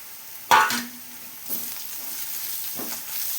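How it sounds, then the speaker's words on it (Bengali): A spice paste of onion, ginger and green chilli fries in a pan with a steady close sizzle, a sharp stir or scrape near the start and a few softer stirring bursts. "ভালো করে এখন ভাজবো।"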